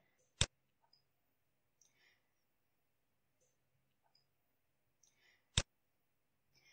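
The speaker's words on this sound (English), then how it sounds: "I'm typing my name" Sparse keyboard clicks while a name is typed into an Android app, with two sharp isolated taps and a few faint softer keystrokes between them, no talking.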